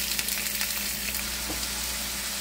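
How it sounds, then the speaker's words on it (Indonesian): Overnight-marinated taichan chicken fries in hot oil, giving a dense, steady sizzle with fine crackling pops throughout and no voices. "Setelah minyaknya panas, masukin ayam yang sudah dimarinasi semalaman."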